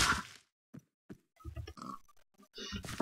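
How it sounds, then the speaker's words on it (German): Pigs in the video game Minecraft give short grunts and oinks, a few separate snorts followed by a denser run of game-animal noises, fairly close and clear. "Hier sind aber so viele Schweine unterwegs."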